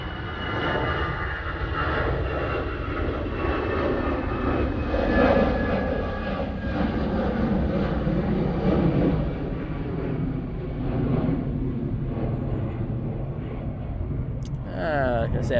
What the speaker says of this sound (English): EasyJet now taking off. He's one of their A320 CEOs.